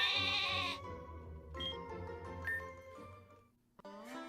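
Sheep bleat in a Pokemon video game, a long wavering digital cry at the start followed by softer tonal calls and a short chime, all game audio with no talk.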